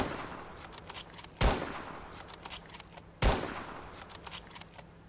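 Gunfire rings out in two sharp, loud shots about two seconds apart, close by, over a faint, busy background of small clatters.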